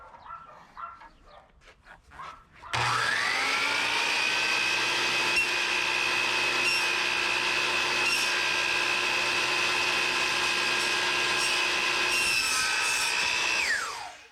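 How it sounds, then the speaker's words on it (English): A miter saw spins up sharply and cuts through wood door casing with a loud sustained whine that holds for about eleven seconds before winding down, after a few faint handling knocks. "move out to the miter saw and make our cut"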